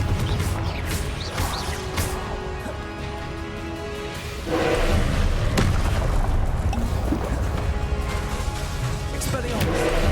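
Fiery spell blasts and crashing booms in Hogwarts Legacy combat, dense and loud throughout with a heavier surge midway, layered with game voices calling spells.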